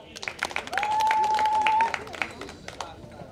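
A church fundraising gathering claps for a donor family in scattered bursts of applause, with a sustained whistle-like tone and crowd noise running through the middle of the clapping.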